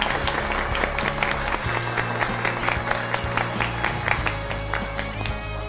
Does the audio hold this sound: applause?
yes